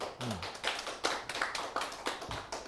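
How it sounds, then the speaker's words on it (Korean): Scattered, irregular hand claps from a church congregation during a sermon, a handful of sharp, moderately close slaps spread unevenly with no voices over them. "박수 한번 치셔야 돼요"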